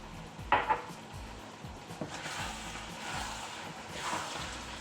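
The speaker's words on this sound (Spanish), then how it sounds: "ahora echaremos la harina para que se nos cocine y no sepa a harina, más que a lo que tiene que saber" Flour cooking and being stirred in a frying pan for cocido croquettes, giving a steady soft sizzle with scraping stirs and an occasional clink of the utensil, close and moderately quiet, with no talking.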